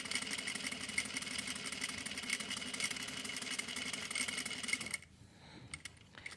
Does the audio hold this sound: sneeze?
no